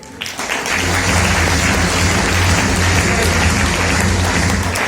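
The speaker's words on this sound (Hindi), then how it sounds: "डिस्काउंट के लिए इतनी तालियां" Loud, sustained applause from an audience at a business presentation in Belgaum, a dense crowd clapping continuously and evenly for several seconds, with a low steady hum underneath.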